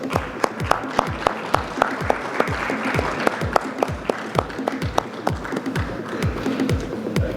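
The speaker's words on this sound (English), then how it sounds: "A big round of applause, ladies and gentlemen" Audience applause after a panel session at a conference, many hands clapping with some sharp individual claps standing out close by, a moderately loud, steady patter across the whole stretch.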